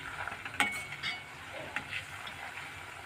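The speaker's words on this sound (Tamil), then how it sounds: "இந்த கடுகு ஜீரகம் வெந்தயம் இதெல்லாம் நல்லா பொரியணும்." Mustard seeds, cumin and fenugreek fry in hot oil for homemade hair oil, giving a faint, steady sizzle with a few light pops and clinks of a utensil against the pan.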